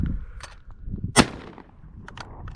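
A 24 gauge shotgun firing a Federal/Fiocchi commercial target load of number 8 shot at clay pigeons gives a single sharp report outdoors, moderately loud, among light background noise.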